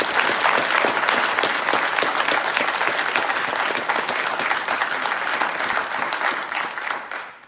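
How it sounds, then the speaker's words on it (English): A large audience at a military commissioning ceremony claps steadily and loudly for several seconds, the dense applause tapering slightly at the very end. "A round of applause for Cadet Nalbandian."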